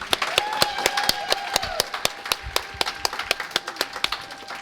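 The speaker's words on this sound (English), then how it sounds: "Can we all give her a round of applause?" Scattered clapping from a small audience at a Law Day event honoring a guest speaker: sharp, distinct claps in a loose rhythm, fairly close, with a faint tone running underneath.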